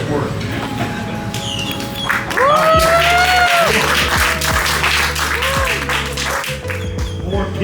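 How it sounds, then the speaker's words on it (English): An audience at an alligator show in the Everglades gives scattered clapping under loud talking from a presenter, with other voices and outdoor noise around. "More pity applause."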